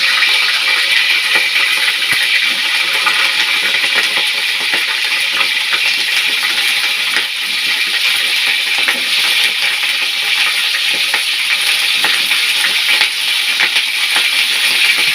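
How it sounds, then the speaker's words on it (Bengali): Cauliflower pieces fry in hot oil with a loud, constant crackling sizzle that carries on without a break throughout. "ফুলকপিগুলো তেলের মধ্যে ভেজে নেওয়া হচ্ছে।"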